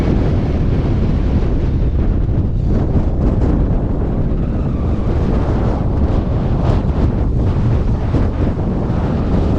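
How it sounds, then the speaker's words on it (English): Strong wind roars without a break across the microphone at a trig point on a Peak District hilltop, a dense, loud buffeting that drowns everything else and never lets up. "Very windy, very windy."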